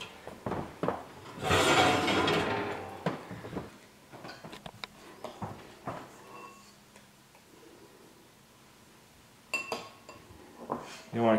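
Hot pots come out of an oven while bread is baking, with clinks and clunks of metal and ceramic, a loud scrape or rush near the start, then scattered knocks and taps in a quiet kitchen.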